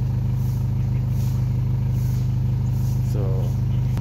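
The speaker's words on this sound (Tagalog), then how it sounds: "And currently yeah, cold start." A Mitsubishi Lancer idles after a cold start, a loud, steady low rumble with a regular pulse, and a voice speaks briefly over it near the end.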